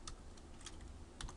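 Computer keyboard typing in short bursts of crisp keystrokes, with clusters of taps separated by brief pauses, close up and moderately loud against a quiet background.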